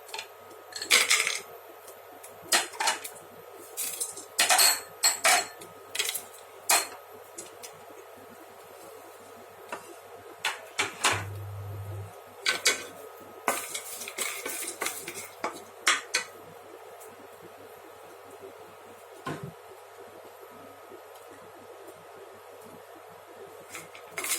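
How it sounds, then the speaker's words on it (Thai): Whole spices such as cinnamon and bay leaves clatter and rattle in a dry pan, with repeated scraping and tapping of utensils against metal throughout, close and moderately loud, with no talking. "คั่วเครื่องเทศก่อนนะคะ ก็จะมีอ่าอบเชยนะคะ กับใบการปูนะคะ"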